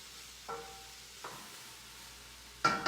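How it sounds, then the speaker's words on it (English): Cabbage with carrots, celery and other cruciferous vegetables stirs in a pan. A faint, steady sizzle runs beneath three short scraping stirs, and the last one is louder and closer. "as I'm stirring, the cabbage is starting to shrink down"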